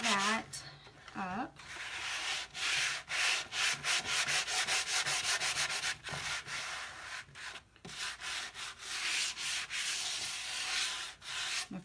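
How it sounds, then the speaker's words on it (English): Sandpaper is worked lightly by hand over a painted wooden lazy susan in quick back-and-forth rubbing strokes, close and fairly soft, with brief pauses and a voice talking at a few points. "I'm just gonna kind of lightly sand this"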